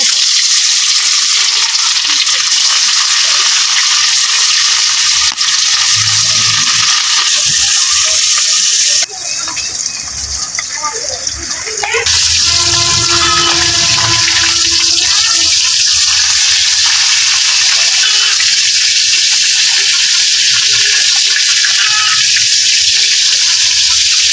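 Fish sizzling in a hot kadai-style wok, a steady dense hiss of oil frying that runs the whole time, close and loud, with a brief softer bubbling stretch partway through.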